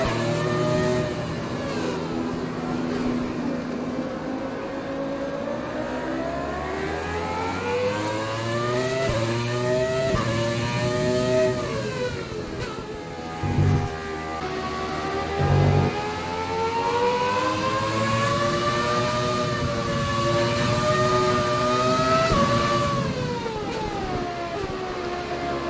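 Benetton B195 Formula 1 car in F1 2020, its high-revving engine screaming continuously and rising and falling through gear changes, loud and close with a sustained harmonic whine and no talking.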